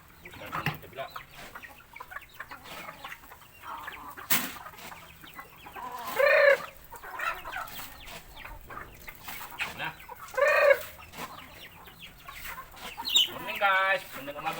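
Chickens cluck and squabble over feed at a morning feeding, with a few louder squawks standing out and a person speaking briefly nearby.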